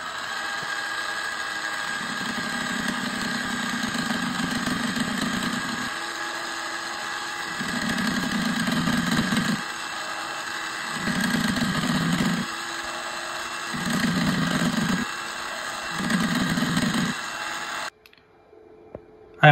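Proxxon MF70 mini milling machine with a gear cutting attachment cuts teeth into a gear blank. A constant motor whine is broken by five repeated bursts of louder cutting noise, and the sound stops abruptly near the end.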